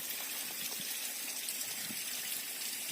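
Water poured as an offering to Shiva at a Chandika temple by the hilltop fort of Devgarh, using spring water from a waterfall: a steady, even rush of splashing water that fills the whole moment with no voices.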